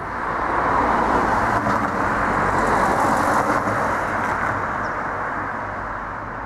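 Road traffic outside an old theatre, a broad rumbling whoosh as a vehicle passes, swelling and slowly fading, fairly loud and continuous with no talking.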